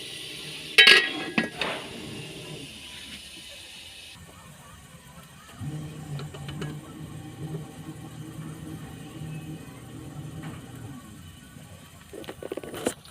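Pot and lid clatter while chicken sautés: sharp metallic clinks at the start, then a softer sizzling hiss and muffled kitchen noise, with a few more clinks near the end.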